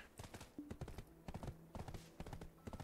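Horse hooves clip-clop rhythmically at a brisk trot in the online game Black Desert Online, crisp repeated hoofbeats in quick clusters, fairly quiet overall and without talk.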